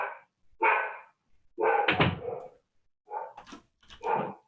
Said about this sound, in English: she starts barking